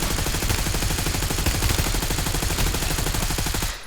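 Rapid bursts of automatic gunfire in a battle royale video game, loud and dense, rattling continuously for several seconds before cutting off abruptly at the end.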